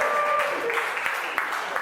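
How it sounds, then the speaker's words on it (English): Comedy club audience at the Highland Inn keeps clapping, a dense, steady wash of many hands at fairly loud volume with a faint voice near the start. "Now keep clapping if you're drinking tonight."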